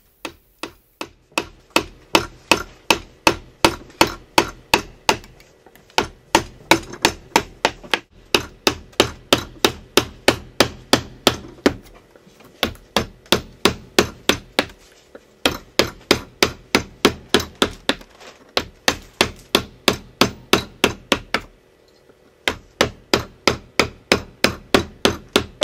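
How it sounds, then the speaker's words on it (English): Sharpened gouge carving a wooden key block for a Japanese-style woodblock print, a fast steady run of sharp percussive strikes and chips in bursts, with brief pauses between groups, close and alone. "just get a good sharpened edge on that gouge and blast away"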